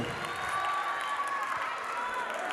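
A large crowd at a free outdoor concert in Fergana cheers and claps in a steady, dense roar, with whistles and shouts rising from the mass.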